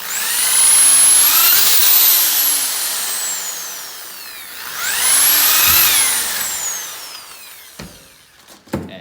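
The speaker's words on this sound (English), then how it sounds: "got my drill here. Just gonna drill my holes out" An electric drill bores holes through a sawmill-blade machete, two long whining runs that rise and fall in pitch, each winding down before a few sharp clanks of metal at the end.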